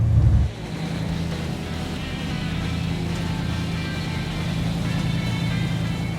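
An old-school hot rod cruising on a Southern California road, its engine a steady low rumble heard from inside the car after a short burst of louder noise at the start, with no talking.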